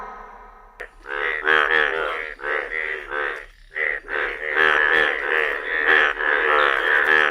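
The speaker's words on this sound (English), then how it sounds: "F for frog." A frog croaks loudly and close, in rapid repeated bursts of rattling calls with short pauses between them.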